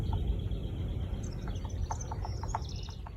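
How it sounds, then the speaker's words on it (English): A woodpecker in a tree taps in a quick, irregular series against a loud outdoor background, while small birds chirp and twitter nearby. "Hey, listen, I hear a woodpecker."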